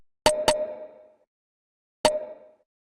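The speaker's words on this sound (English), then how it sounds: "the first layer I have is this percussive hit that sounds like this" A percussive hit sample layer with a sharp attack and a short tonal ring, struck twice in quick succession, then once more after a pause, each hit decaying quickly into silence.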